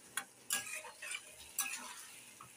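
Spice paste (masala) frying in oil in a pan for a soybean and potato curry, stirred in a few scraping bursts over a faint steady sizzle, fairly quiet and close, with no talking.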